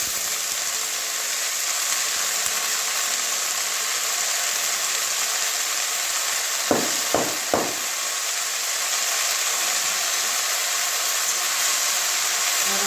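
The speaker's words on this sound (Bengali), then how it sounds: "এবারে ধুয়ে রাখা কলমি শাকটা দিয়ে দেবো" Washed water spinach goes into a pan of oil with already fried onion and garlic, giving a steady, even sizzling hiss throughout, with a few quick utensil clicks near the middle.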